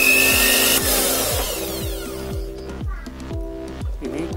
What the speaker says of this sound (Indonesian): Pertama-tama saya nyalakan dulu blendernya.